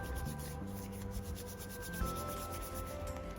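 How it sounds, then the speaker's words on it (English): Palms rub wax strips together in a steady, close, continuous rubbing and brushing sound, with no talking. "We can rub the strips in between our palms to make the wax warmer."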